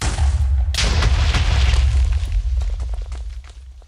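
Deep, loud explosions from a chaos cannon in Minecraft boom in quick succession, with a big blast near the start and rumbling bursts and pops trailing off toward the end.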